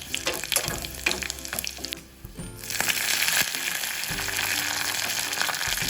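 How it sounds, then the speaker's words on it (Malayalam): Mustard seeds, dried chillies and curry leaves hitting hot coconut oil in a pan, a loud close crackling sizzle with sharp pops, briefly dipping before settling into a steady hiss. "എണ്ണ ചൂടാക്കുമ്പോൾ കുറച്ച് കടുകും ഉണക്കമുളകും കറിവേപ്പിലയും ചേർത്ത് മൂപ്പിച്ചെടുക്കാം"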